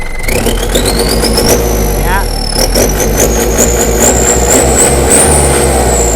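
Kubota L4708 tractor with a wet air filter, its diesel engine revved hard, a loud steady roar with a rising whine climbing in pitch over a deep rumble, with a voice talking over it.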